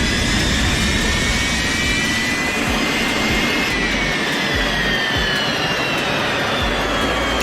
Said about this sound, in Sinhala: බලමුද ජෙට් එන්ජින් එක පවර් එක කොහොමද කියලා?